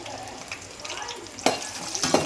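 Mustard seeds, urad dal and dried chillies frying in hot oil for spicy kara chutney: a steady close sizzle with a couple of sharper crackling bursts toward the end, and no talking.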